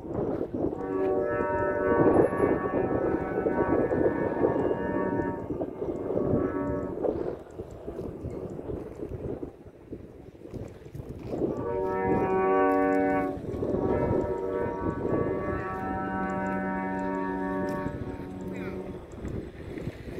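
Humming drone of a bamboo kite flute on a flying 5 m kite, sustained harmonic tones swelling and fading in long waves, with faint voices underneath.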